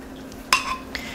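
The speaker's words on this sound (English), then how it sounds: "Reach in there with your spatula. After pulling the lid off, scrape it down a little bit" A spatula scrapes down the inside of a pot of homemade BBQ sauce, making a sharp metallic clink followed by a brief scrape and a second lighter tap, close and quiet.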